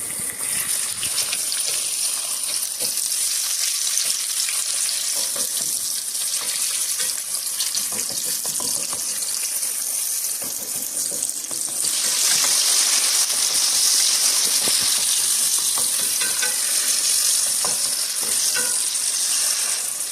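Tomatoes and onions sizzle steadily in a hot pan for chicken liver masala while a utensil stirs and scrapes through them, with the hiss swelling louder partway through.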